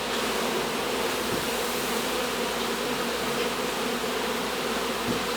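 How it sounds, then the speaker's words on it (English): A large mass of honeybees rescued from inside a house wall being dropped into a hive's frames, a loud, dense, continuous buzzing close by with no voices. "as I drop the bees on these, they're actually climbing down into the frames"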